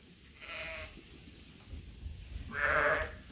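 Sheep bleats during lambing on a farm: two drawn-out calls, a softer one early and a louder, nearer one near the end, over low barn background noise.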